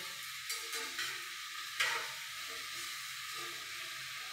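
Okra curry frying uncovered in an open pan gives a steady close sizzle with soft stirring scrapes and one brief louder clatter, no voices.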